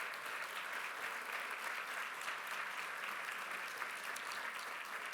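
A large audience at the National Assembly applauds photographer Milvio Pérez with dense, sustained clapping. The applause holds an even level throughout and sounds slightly distant.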